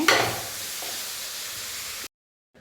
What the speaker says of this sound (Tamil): இப்போ இதை நல்லா வதக்கி விட்டுவாங்க.